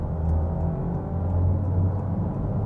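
A Honda ZR-V 2.0 hybrid in sport mode at full throttle produces a steady, close cabin drone of engine and road rumble, its pitch climbing smoothly as the car accelerates.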